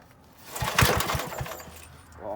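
An old, neglected Briggs and Stratton generator engine is pull-started: a short burst of rapid cranking chugs that fail to catch, fairly faint and close.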